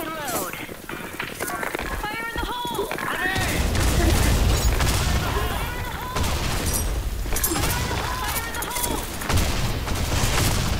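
Video game gunfire from an AWP sniper rifle, with repeated sharp shots and booms scattered through heavy in-game action, loud and close, while players talk over it.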